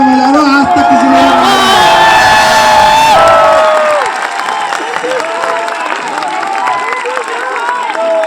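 An indoor audience at a large program in Jaipur, Rajasthan, cheers, shouts and claps loudly, the crowd noise swelling, then settling into scattered clapping and calls.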